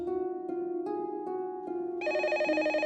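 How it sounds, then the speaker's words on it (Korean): A telephone rings indoors in an office, repeated electronic ring tones in a steady pulsing rhythm, then a brighter, higher tone sequence near the end; loud and close with no talking. "그때 울리는 전화벨."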